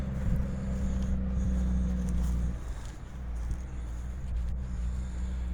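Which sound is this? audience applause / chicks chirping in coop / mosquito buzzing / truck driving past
truck driving past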